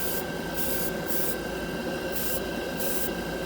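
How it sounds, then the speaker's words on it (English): Airbrush spraying Mr. Color lacquer paint at 20 psi onto an old Gundam model kit, a steady close hiss of air and atomized paint running unbroken the whole time, with a faint pulsing texture and no talk. "Airbrush just came on."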